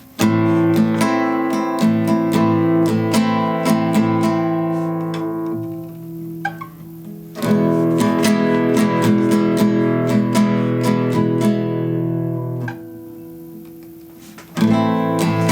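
Loud acoustic guitar chords strummed in uneven bursts, ringing and stopping abruptly, with scratchy strokes and gaps between the strums.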